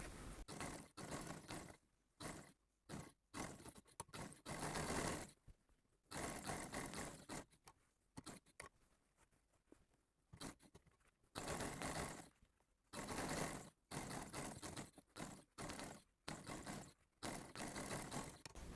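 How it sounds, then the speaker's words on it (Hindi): A sewing machine stitches lace around the edge of a flat collar neckline. It runs in loud, close bursts of rapid whirring, separated by short and longer pauses. "लेस के बाहर वाली साइड पे सिलाई लगाएंगे ऑल राउंड"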